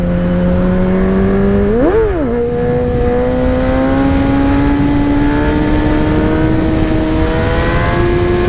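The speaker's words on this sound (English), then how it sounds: "We'll do a little wheelie." A motorcycle engine on a mountain road during a wheelie attempt, revving sharply up and back down once, then holding a steady, rising drone close to the rider under constant wind noise.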